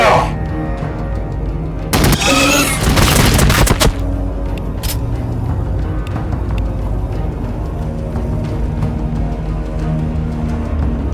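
Gunfire from the Warhammer 40K Battlesector video game: a dense volley of shots bursts loudly for about two seconds near the start, followed by scattered sharp reports and a steady rumbling battle ambience, with voice effects mixed in.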